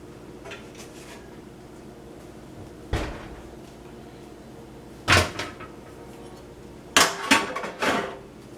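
A pizza pan being taken out of an oven, with a few sharp metallic clanks and knocks spaced apart, the oven door or rack banging against a faint background hum.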